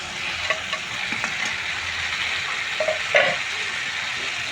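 Fried fish heads and spice paste sizzle in a frying pan for a cabbage dish, with a steady hissing bed and occasional scraping stirs and soft clacks, heard up close with no talking.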